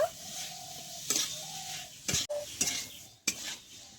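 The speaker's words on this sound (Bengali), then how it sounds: "দিয়ে এরকম 1 মিনিট মতো মশলা আলু চিংড়ি মাছের সঙ্গে একটু কষিয়ে নেব" Banana stem stir-fried with prawns, potato and spices gives a soft sizzle under sharp metallic scrapes and clacks of a spatula against the pan, several distinct stirring strokes up close.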